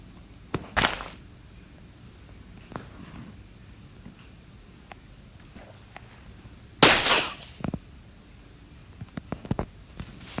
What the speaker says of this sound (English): That's the creeper cannon.